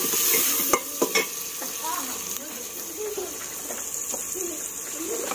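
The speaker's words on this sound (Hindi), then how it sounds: "ये लहसुन भी मैंने ये पीस के रखा है, ये भी डाल देते हैं।" Ground garlic sizzles and is stirred in a hot pan, a steady frying hiss with a few clinks of the spoon near the start and faint bird chirps in the background.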